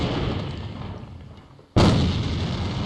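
A grenade blast in a competitive first-person shooter match: a steady rumble of combat fades, then a sudden loud booming explosion hits and its roar carries to the end.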